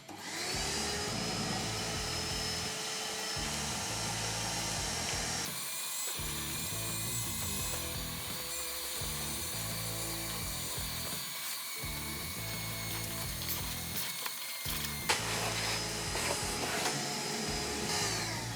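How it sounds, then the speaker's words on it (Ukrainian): A loud DeWalt DXV234P vacuum with a cyclone separator runs continuously with harsh, gritty rattling and scraping as sand is sucked up, the pitch shifting as it moves across the surface. "Ми зберемо весь цей пісок за допомогою пилососу плюс циклону"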